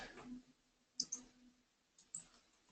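A computer mouse clicks during a slide presentation: a few sharp, faint clicks, some in quick pairs, spaced over a quiet room with a low background hum.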